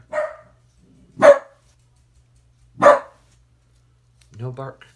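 A dog barks in short, separate bursts close by during an arts session, spaced about a second or more apart, with a person speaking briefly near the end.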